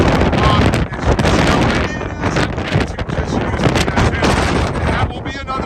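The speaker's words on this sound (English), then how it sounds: "Man, it is windy and nasty and rainy." Strong wind and rain outdoors on a stormy day beside a ham radio antenna setup, heavy gusts buffeting the microphone in a loud, continuous roar that surges and dips.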